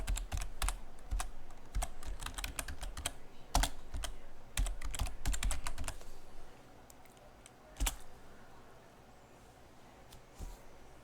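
Keystrokes on a computer keyboard while a terminal command is typed during a Linux Mint 17.3 to 18 upgrade, with quick irregular bursts of clicks in the first six seconds, then sparser taps and a single louder key near the end.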